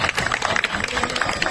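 A brief burst of quick, dense clapping from a small group of family members at a home party game, loud and close.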